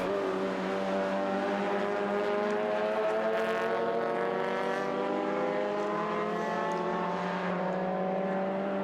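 Race cars in a Super TT hour endurance race at Sydney Motorsport Park, with a sustained loud, steady engine drone with strong harmonic whine holding throughout, no talk.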